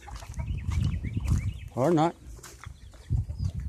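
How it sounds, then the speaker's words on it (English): Farm chickens cluck and squawk nearby outdoors, mixed with a person talking and calling to them, with one louder wavering call standing out in the middle. "I can't even come outside with them dang crazy birds."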